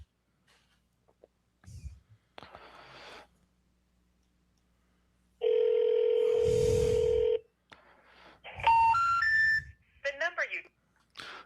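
A phone call being dialed and going unanswered, with a steady tone, then a run of rising and falling electronic beeps and bursts of line noise, loud and close.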